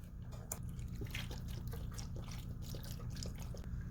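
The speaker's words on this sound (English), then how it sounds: "I'm going to add in the beef broth" Beef broth poured into a stew pot already holding carrots, celery and onions, giving a steady, close liquid trickle and splash with small drips over a low background hum.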